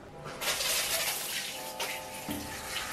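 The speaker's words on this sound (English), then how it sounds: "take the shower head and turn my head upside down and pour it" Shower head water poured over an upside-down head of hair while rinsing during a home haircut, a steady broadband splash that swells louder after the first half second and continues without pause, with no talking.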